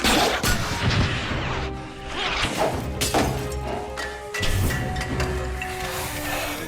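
Smoke grenade canisters are fired into a glass tube on a film set, giving a dense burst of loud hissing, whooshing and hard banging knocks that pours out continuously at close range.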